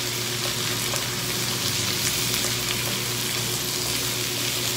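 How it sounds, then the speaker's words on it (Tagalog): Baguio beans and vegetables stir-frying in a hot pan, a steady broad sizzle that holds constant throughout, close and moderately loud with faint stirring underneath. "susunod ko na yung Baguio beans. Ayan. Stir fry lang natin siyang ganyan."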